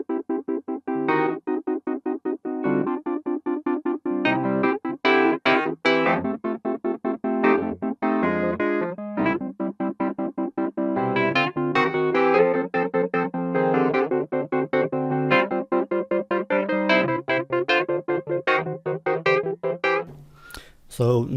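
Nord Electro 5D keyboard set to a Wurlitzer-style electric piano tone, a lively passage of chords and melody played in a continuous, detuned-sounding groove, close and solo throughout.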